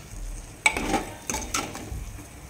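Chicken curry stirred in a pot, a sharp clink of a spoon against the vessel followed by scraping stirs and a faint sizzle, close and moderately quiet without speech.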